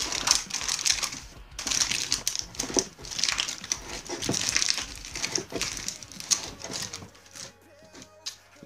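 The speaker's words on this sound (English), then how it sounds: "I'll just be pushing down on that little thing, and it gets the foil super tight." Foil pressed tight over a Mason Shishaware Helyx hookah bowl, close crinkling and crunching in irregular bursts, quiet and fairly near, fading to near silence at the end.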